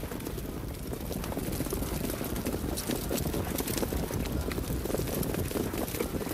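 Harness racing trotters leave the start of a race, their hooves giving a dense, continuous drumming patter, steady and fairly loud, mixed with broadband track and wind noise.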